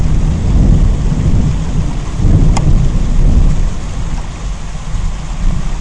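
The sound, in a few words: heavy rain and thunder of the flood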